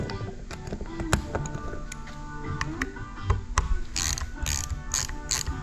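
A ratchet clicks in short bursts while working on Cfmoto Zforce 950/1000 Sport A-arms, crisp close pawl ticks with metallic taps and clanks between, then quicker rhythmic ratcheting strokes near the end.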